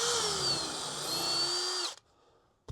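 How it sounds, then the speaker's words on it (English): A power drill with a 3/32 inch bit whirs steadily at high speed for almost two seconds drilling a pilot hole, then cuts off into near silence with a faint click at the end. "take your 3/32 inch drill, drill your pilot hole"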